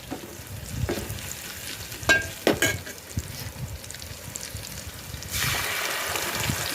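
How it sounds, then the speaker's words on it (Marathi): Blended tomato paste fries in oil spiced with a little turmeric for a pumpkin and tomato sar, a soft hiss with a few sharp stirring clacks, then a louder, fuller sizzle swelling near the end, no talking. "तर टोमॅटोचं पेस्ट आपण याच्यामध्ये टाकतो आहे"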